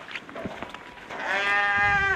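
Sheep bleating at a livestock market in eastern Morocco before Eid, faint scattered noises first, then one loud, close, drawn-out bleat for about a second.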